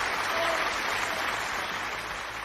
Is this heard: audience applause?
yes